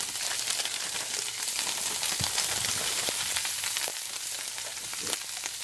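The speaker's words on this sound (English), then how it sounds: "I'm going to turn the pan down a little bit, and I'm going to put in the meatballs." Meatballs frying in a pan on turned-down heat beside Genoa salami, a steady close sizzle filling the whole stretch with a few faint pops and shifts.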